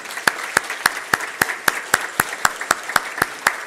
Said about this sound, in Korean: 저희는 우리 박수로 환영하겠습니다